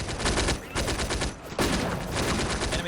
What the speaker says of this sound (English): These guys are providing support fire.